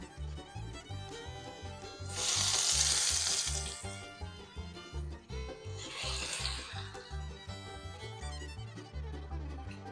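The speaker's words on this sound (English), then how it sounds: "So let's go ahead and sear these bad boys up." Seasoned sirloin tip roast pieces searing on a hot surface, two loud bursts of sizzling over a steady background of music, no talk.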